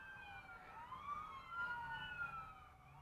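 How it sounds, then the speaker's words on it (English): Emergency vehicle sirens wail up a city street, with overlapping rising and falling tones sounding at moderate distance over low traffic rumble. "there's some sirens flying up Fairfax"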